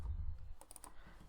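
Light typing on a computer keyboard: a few quiet, scattered keystrokes clicking close by over a low background rumble.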